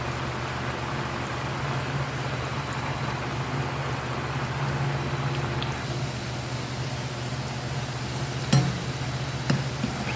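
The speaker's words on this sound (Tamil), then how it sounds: "சலசலப்பு கொஞ்சம் நின்ற உடனே திருப்பி போடுங்க" Murukku dough fries in hot oil, a steady close hiss and bubbling sizzle that runs on evenly, with a couple of faint clinks near the end.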